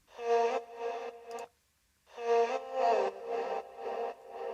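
Chopped vocal shout sample in a chill electronic music drop, heard as two bursts of bright, harmonically rich voice with reverb, split by a short silence, loud and alone.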